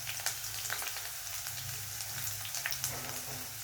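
Dried red chillies and onion fry in hot oil for a Kerala-style drumstick leaf curry, giving a steady, dense sizzle with small crackling pops throughout and no voices.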